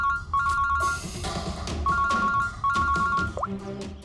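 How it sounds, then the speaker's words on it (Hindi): A phone rings in a tense scene from a TV crime drama, repeated electronic ringtone bursts alongside other clattering sounds. "फोन उठाओ"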